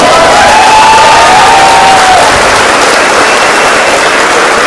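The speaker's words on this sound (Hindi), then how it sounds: "एक बार इनके लिए हाथ ऊपर करके दिल खोल के जोरदार तालियां" A large network marketing seminar crowd bursts into loud, dense applause and cheering, a roaring continuous wall of clapping with a whistle-like tone rising through it early on.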